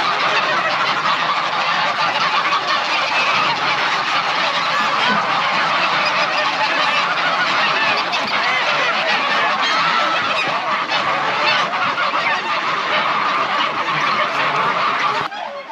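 A dense chorus of geese and swans at a winter feeding at Slimbridge wetlands honks and calls continuously, loud and chaotic, with no pauses throughout.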